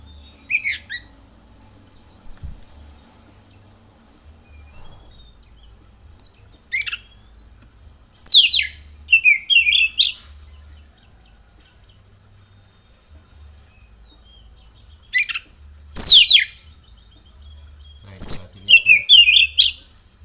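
Oriental magpie-robin (kacer) in song, loud clear whistled phrases and chattering bursts in several spaced bouts with pauses between, close by over a low background hum.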